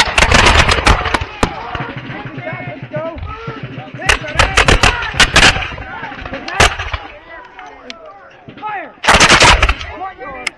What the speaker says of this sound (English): Make ready. Present. Fire.